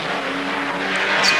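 Racing cars of 1980 sweeping through the Esses at Bathurst, engines droning with a steady tonal whine that builds and swells as a car approaches, heard from a static trackside spot.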